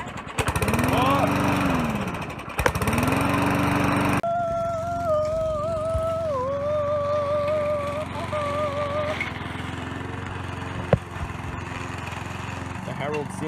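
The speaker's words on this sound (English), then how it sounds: "He goes back to mow another part of his lawn." A lawn mower engine drones loudly and steadily up close while a lawn is mowed, then drops back, with a whistling tonal sound and some speech-like noise over the quieter later part.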